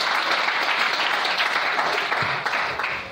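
A church congregation breaks into sustained, loud applause during a French-language sermon, a dense wash of clapping from many hands that tapers slightly at the end.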